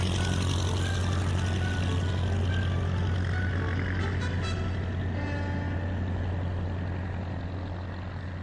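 A propeller aircraft engine drones in a dense, steady roar for a radio drama. The low, continuous hum stays loud throughout with no voices over it.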